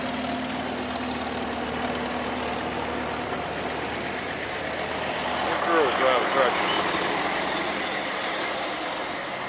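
Vintage tractor engine idling at a Sevierville farm power round-up in May 2024, a steady low rumble throughout with voices talking over it and a brief louder stretch midway.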